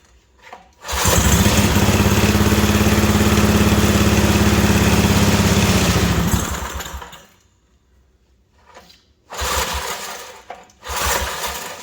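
A Wheel Horse RJ58 garden tractor engine fires after choking and runs loudly for about five seconds in a steady buzzing putter, then dies, followed by a couple of short bursts of cranking or sputtering.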